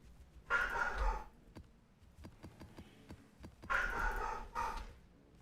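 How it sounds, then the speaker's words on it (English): Several dogs bark in two separate bursts a few seconds apart, fairly quiet and somewhat distant, with a few sharp clicks and taps in the gap between them. "What are they barking at?"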